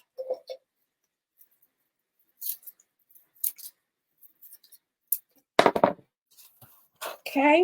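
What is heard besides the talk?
scissors trimming small pieces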